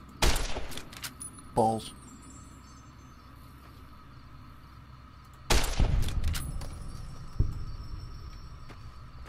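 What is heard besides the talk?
gunfire in video game Fallout New Vegas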